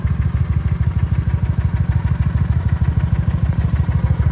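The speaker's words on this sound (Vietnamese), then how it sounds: "Máy nổ thì thầm luôn nha mấy anh nha" A 2015 Kawasaki Vulcan 900 cruiser, about 13,000 km on the clock, idles with a steady, low, even throb that runs unbroken and fairly close, with no voices over it.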